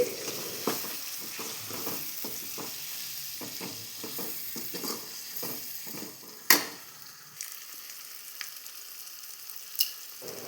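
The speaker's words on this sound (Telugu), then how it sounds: "ఇప్పుడు మీడియం సైజ్ టొమాటోని కట్ చేసి కూడా అవి కూడా ఇందులోనే వేసి ఫ్రై చేయండి" Cut tomatoes frying in a pan for buttermilk rasam, a close bright sizzle with a run of quick stirring scrapes, then a sharp clink and a few sparser knocks as it settles.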